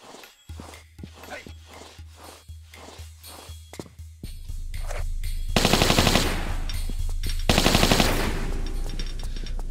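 Gunfire in the video game Tomb Raider 3: a rapid series of sharp, evenly spaced shots followed by louder sustained bursts of automatic fire, close and dominant with no talk over it.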